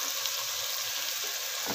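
Green chilies and spices frying in a pan, a continuous soft hiss and crackle of sizzling oil with faint stirring scrapes, fairly quiet and close.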